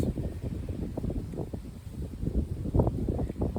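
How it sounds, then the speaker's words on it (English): Gusty wind buffets the microphone with a steady low rumble that swells and dips, sounding close and fairly loud throughout. "it's getting kind of windy all of a sudden"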